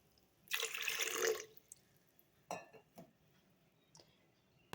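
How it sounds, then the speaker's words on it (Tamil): About half a litre of water added to sugar in a pan for laddu syrup, a short close splashing pour followed by a few scattered drips and light clinks. "1/2 லிட்டர் அளவுக்கு தண்ணி சேர்த்துக்கலாம்."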